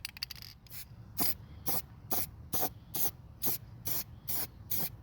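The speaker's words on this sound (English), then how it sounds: "I'm gonna spray some of this on my tire and make sure it matches my car." Spray paint hisses onto a car tire in a series of about nine short, even bursts, each roughly half a second long, repeated at a steady pace, close up, with no talking, while a 1997 Mustang GT is being painted.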